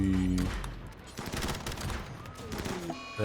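Rapid gunfire in a RimWorld battle, dense overlapping bursts of shots crackling steadily for a few seconds at moderate distance, with faint game sounds around them.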